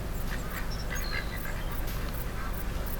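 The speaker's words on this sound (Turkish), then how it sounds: "ördekler var gölde duyuyor musunuz bilmiyorum" Wild ducks quack in short scattered calls on a lake over steady outdoor wind noise, fairly distant and soft.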